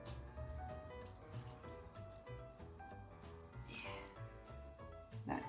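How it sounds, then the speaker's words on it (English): White wine splashes and trickles over hake in a baking dish, a quiet continuous liquid pour with small clinks and drips, fairly faint and close. "I have this wine left from the other day, white wine, and I'm going to pour a little glass all over."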